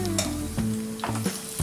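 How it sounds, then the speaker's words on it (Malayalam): Raisins fry in hot oil while being stirred for biryani, a short close sizzle broken by a few clinking scrapes of a utensil against the pan. "ഇത് എണ്ണയിൽ നിന്നും കോരിയ ശേഷം നമുക്ക് കിസ്മിസ് ഇട്ട് കൊടുത്ത് വറുത്തെടുക്കാം"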